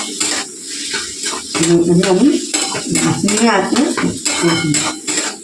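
A spoon scrapes and clanks against a pan as spice masala with meat is stirred and fried over low heat, rhythmic metallic knocks with a soft sizzle underneath, close and fairly loud, while someone talks.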